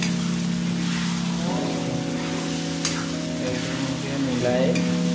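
Pork pieces with lai greens being stirred in a frying pan, a steady loud sizzle with scraping strokes of the spoon, alone without talk, over a low steady hum.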